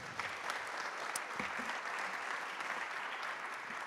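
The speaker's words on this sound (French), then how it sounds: "on peut vous applaudir" Audience applause at a science presentation during the 2022 BioGée days in Rouen: steady, dense clapping that holds at an even level for about four seconds, with no voices over it.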